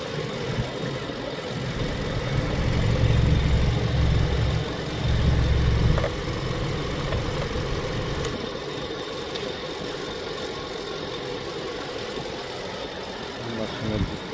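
A 2014 Hyundai Sonata with a 2-litre gas engine idles with a steady low rumble, slightly louder in the first few seconds, while someone speaks nearby.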